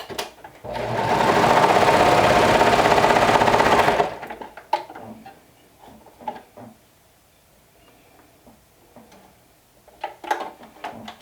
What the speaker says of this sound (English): I'm sewing this with a 3/8 of an inch seam allowance